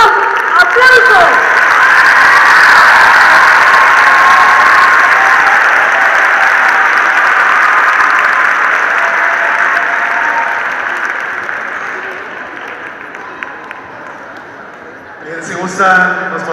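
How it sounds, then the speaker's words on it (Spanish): An audience at a church catechists' celebration applauds loudly and continuously for a priest, the clapping slowly fading before a voice begins speaking at the end. "Recibamos al padre Pedro Medina con un caluroso aplauso"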